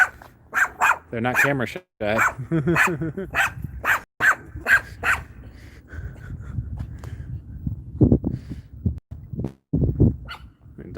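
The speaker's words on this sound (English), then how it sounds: "Oh, I got 2 little doggies." Two small dogs bark in sharp, repeated bursts close by, with some growling and whimpering mixed in, while someone talks outdoors on a cool, overcast day in a Henderson, Las Vegas neighborhood.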